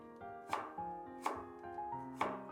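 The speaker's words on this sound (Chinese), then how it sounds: "再来准备一块去皮的生姜，给它切成厚一点的片。" A knife cuts peeled fresh ginger into thick slices on a board, three sharp, evenly spaced chops, close and fairly quiet, with a low hum between the strokes.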